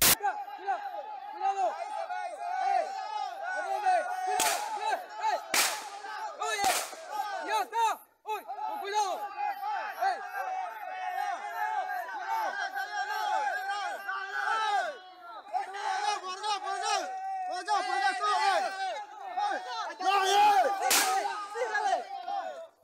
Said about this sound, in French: les gens sont paniqués, il y a des lumières, des coups de feu, c'est assez impressionnant